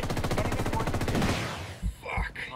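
Rapid bursts of video game gunfire in a military shooter, dense and loud for over a second before giving way to a few scattered thumps.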